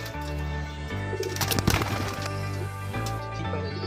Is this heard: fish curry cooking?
no